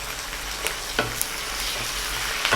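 Garlic fries in oil with curry leaves for a Kerala-style anchovy pickle, giving a soft, steady sizzle with a few light stirring taps.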